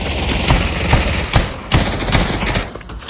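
Rapid, loud weapon fire in the VR shooter Pavlov VR, a string of sharp close shots in uneven bursts over steady game ambience with no talk.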